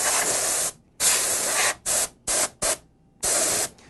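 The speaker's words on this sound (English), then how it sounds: "We're using compressed air." Bursts of compressed air from a can blasting dust out of a PC, six sharp hissing sprays of varying length separated by short silences, close and loud.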